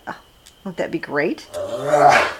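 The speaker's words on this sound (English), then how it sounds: "that's our dog. Maybe she wants to be in the podcast too" A pet dog whimpers and growls in a rising, drawn-out vocalisation indoors, close and fairly loud, with someone speaking briefly over it.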